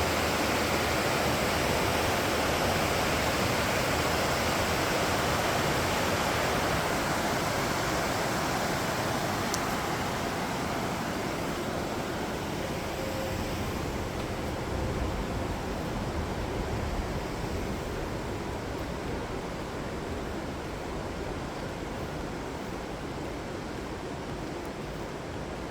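Steady rushing water of a stream pouring away underground beside a Vermont road, a dense continuous wash that holds even and fairly quiet throughout with no voices.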